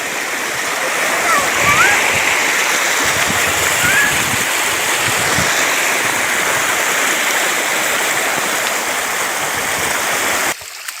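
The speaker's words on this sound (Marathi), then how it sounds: "आर्या बघा कशी पाण्यामध्ये खेळते छान असं पा वाहणाऱ्या पाटाच्या पाण्यामध्ये" Rushing flowing canal water with irregular splashes from a child playing close by, steady and loud for the whole stretch, with a voice briefly heard over it.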